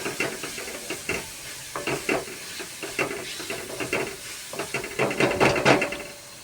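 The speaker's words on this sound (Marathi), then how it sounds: "तेल सुटेपर्यंत भाजून घेते." Chicken masala in oil is stirred and fried in a pan, with soft repeated scraping strokes over a low sizzle, growing a little busier toward the end.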